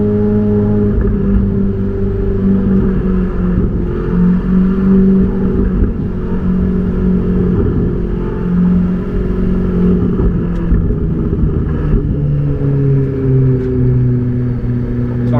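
A Ferrari 488 GTB engine growls continuously up close, its pitch climbing and dropping as it accelerates and shifts through gears, with no talking.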